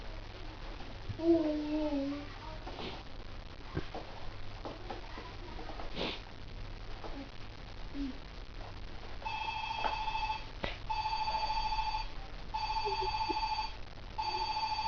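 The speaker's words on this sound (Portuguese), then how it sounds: "Tá tocando o telefone, atende aí." A home telephone rings in repeated electronic bursts partway through, moderately loud over room noise, after earlier sniffs and a small child's babbling.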